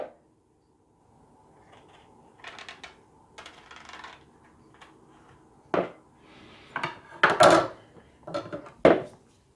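A knife slices into a pomegranate at the joint, giving a few sharp, close cuts and crisp snaps that grow louder toward the end, with soft handling noises between them and no talking.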